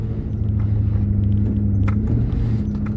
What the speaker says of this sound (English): This sounds like ABS sort of noises when it's working.